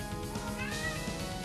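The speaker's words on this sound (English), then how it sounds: "the cat is being a nuisance again" A house cat meows in a nearby room, one drawn-out, rising meow sounding clearly over a steady background hum.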